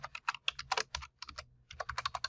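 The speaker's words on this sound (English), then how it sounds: "we're just going to type in that basic information" Rapid keystrokes clatter on a computer keyboard as basic details are entered into a census record search, two quick bursts of close, crisp typing separated by a short pause.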